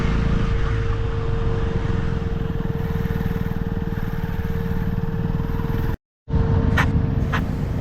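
A KTM Duke 200 motorcycle is ridden on a rainy road up Nandi Hills with its coolant fan running. A steady, close engine drone mixes with wind rush and breaks off briefly near the end.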